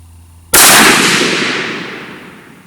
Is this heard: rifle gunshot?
yes